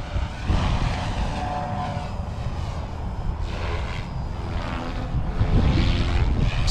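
The engine and spinning rotor of a SAB Goblin 380 model helicopter whine steadily nearby on its first flight, with gusting wind rumbling over the sound and swelling toward the end.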